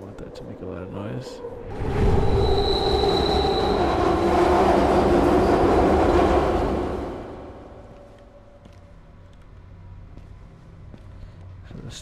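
A train in the video game Beyond Hanwell swells in, roars and rattles past up close with squealing wheels, then fades to a low rumble. A voice talks quietly beneath it.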